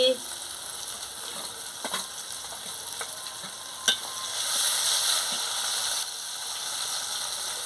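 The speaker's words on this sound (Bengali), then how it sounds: "দিয়ে মশলাটাকে ভালো করে কষিয়ে দিচ্ছি" Spice paste with chili powder and salt frying in a pan for a soybean and gram-flour fritter curry, a continuous close sizzle with a few sharp spatula clicks and a brief louder surge of hissing partway through.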